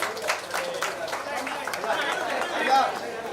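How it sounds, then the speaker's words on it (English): An audience claps for a group of women at a civil defence mock drill, sustained scattered applause mixed with crowd chatter and a nearby voice. "A big round of applause for these ladies"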